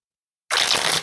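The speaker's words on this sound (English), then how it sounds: "let me do it one more shuffle." After a moment of silence, a single quick riffle of playing cards being shuffled, close and crisp, lasting about half a second.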